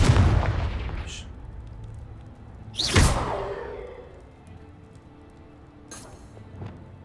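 A Confringo spell explosion in Hogwarts Legacy: a sharp blast near the start, a louder burst with a trailing rumble, and a third crack later, each rising briefly over steady game ambience.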